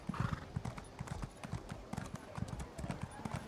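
Horse hooves clip-clopping at a steady trot in the video game Elder Scrolls Online, a close rhythmic run of hoof beats under someone talking.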